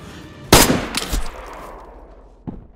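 Loud gunshots in the survival video game DayZ: one sharp, close blast followed by a second shot a moment later and a fainter third near the end, each trailing off in a decaying echo.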